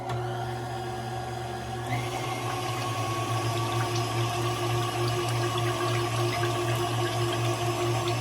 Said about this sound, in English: I pour it into the KitchenAid, make sure everything is nice, locked in place, and then I turn it on